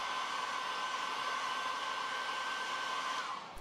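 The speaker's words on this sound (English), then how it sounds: "using a dryer, heat the rear case directly over the battery" A hair dryer blows continuously at a steady, loud whir for a few seconds, heating the rear case of an iPhone XS Max over the battery, before cutting off abruptly at the end.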